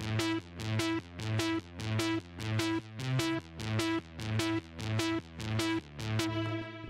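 A bright analog synth lead repeats triplet chord notes in a steady, evenly pulsing pattern over a sustained low tone, loud and close with no voices.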